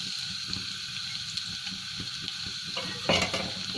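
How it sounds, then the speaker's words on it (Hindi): Garlic fries in about three tablespoons of hot oil in a pan, giving a close, continuous crackling sizzle with faint stirring scrapes and a louder burst of spitting near the end. "पैन में मैंने 3 टेबलस्पून ऑयल डाला था। अब मैं इसमें ये लहसुन ऐड कर रही हूँ।"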